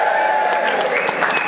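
Wedding guests at a best man's speech cheer and clap together as a cuddly elephant toy is brought out, a steady, dense burst of crowd noise lasting a moment without a break.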